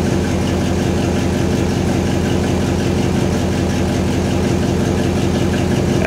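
A 1955 Studebaker car engine idles in a steady, loud, even rumble with a regular low pulse, running close by for the whole stretch without interruption or voices.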